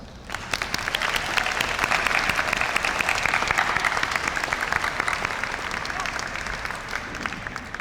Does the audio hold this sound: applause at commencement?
yes